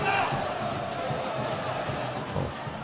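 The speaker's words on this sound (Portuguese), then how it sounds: "A torcida gritando, queremos jogador." Football crowd chanting in protest behind the goal at a Ponte Preta versus ABC Brazilian Série B match, a dense roar of massed voices heard from the stands, steady and loud throughout.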